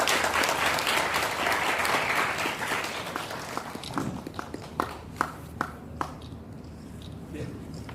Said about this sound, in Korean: 자 박수 한번 크게 보내주시죠.